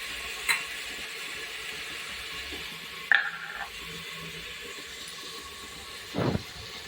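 Potatoes, peas and tomatoes with salt cook in a pan, a low steady sizzle with a few sharp clinks and scrapes of stirring spaced across several seconds, no speech.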